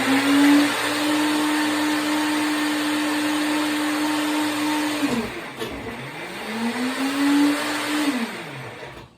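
A countertop blender whirs steadily while blending an alkaline weight gain drink with agave nectar, then briefly stops and spins back up near the end, loud and close with no voices.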